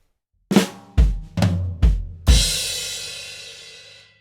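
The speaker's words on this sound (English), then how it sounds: "So you're going to put a flam on beat 1 on your snare drum" A drum fill of four sharp flammed hits on snare and floor tom in steady succession, ending on a crash cymbal that rings out and slowly fades.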